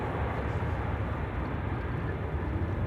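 Vueling airliner rumbling past at Amsterdam Schiphol, a steady broad jet roar that holds constant and fairly loud with no voices over it.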